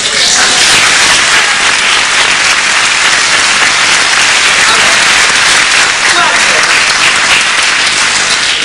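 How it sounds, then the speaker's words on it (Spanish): Loud, continuous applause from a large crowd, a dense wash of clapping filling the whole stretch without pause. "hay que aplaudir generosamente"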